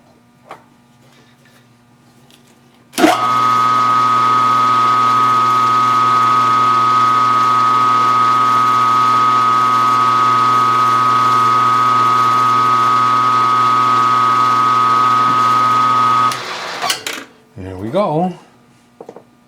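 A machine lathe runs steadily, turning small slugs to hold a piston pin, a loud constant motor hum with a high steady whine lasting about thirteen seconds, then spinning down and stopping.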